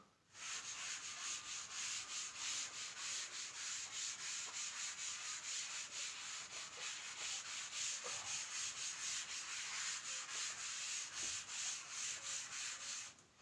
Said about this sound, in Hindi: इसको मैं रब कर रहा हूं।